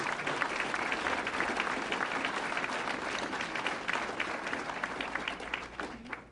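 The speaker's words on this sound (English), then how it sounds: "So give them a round of applause." Audience applause fills a state fair announcement event for the 2019 New York State Fair, a steady, dense wash of clapping from a sizable crowd that holds at even loudness throughout before tapering slightly at the end.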